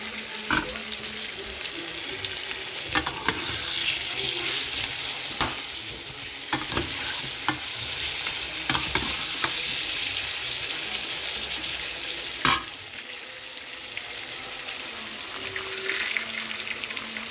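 Ginger, garlic and tomato fry with dry fish in a pan, giving a steady close sizzle with occasional scraping stirs and a few sharper clacks of the utensil. No one speaks.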